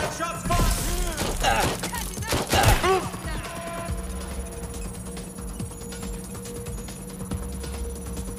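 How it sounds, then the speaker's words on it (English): Gunfire in Watch Dogs Legion, with a cluster of sharp, close shots in the first few seconds that fade into quieter scattered cracks over a humming game background. "Shots fired. Shots fired."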